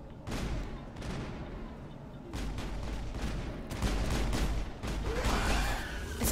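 Gunfire in the video game Mass Effect 1, heard as continuous dense volleys of shots and blasts that build slightly louder toward the end, with no clear voices.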